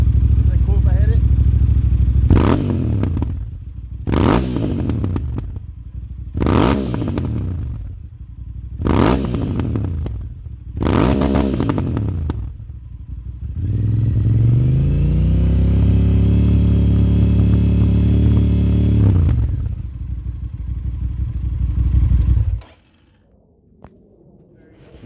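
A loud motorcycle engine with an aftermarket exhaust blips through five sharp revs, then holds a steady 4,000 RPM for several seconds before dropping to idle and cutting off.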